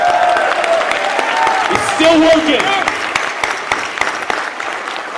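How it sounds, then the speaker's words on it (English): Audience applause for Drew fills the room at a PAX 2009 panel, a steady broad clapping bed running throughout while someone talks briefly over it. "The biggest round of applause has to go out to Drew over here, who's actually down in the pit."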